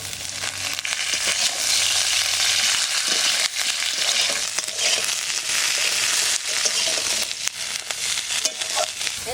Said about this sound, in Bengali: এবার ডাটা কটা দিয়ে দেবো।